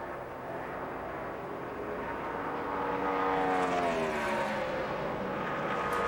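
NASCAR Sprint Cup race cars at practice for the 2012 Bank of America 500 roar past on track, a steady engine drone whose pitch sweeps downward as a car passes mid-clip, with no talk.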